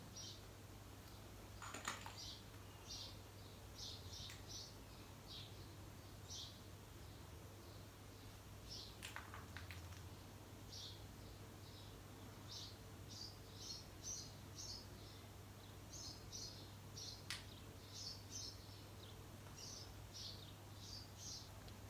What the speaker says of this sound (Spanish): Lo que más se oye son pájaros de fondo